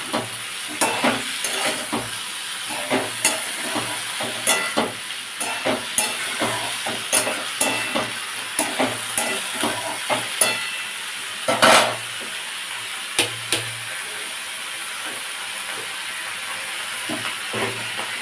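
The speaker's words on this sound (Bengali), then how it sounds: "মুলোটা দিয়ে নাড়াচাড়া করে আর মশলাটা দিয়ে দেবো" Salted radish is stirred in a frying pan for a spinach and radish curry, with a low steady sizzle under repeated clinks and scrapes of the spatula, close and fairly even throughout, no voices.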